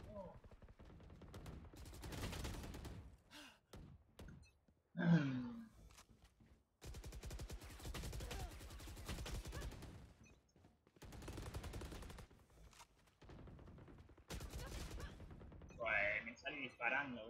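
Gunfire in the video game Valorant comes in sharp rapid bursts and single shots, separated by short pauses, while a player talks over parts of the action.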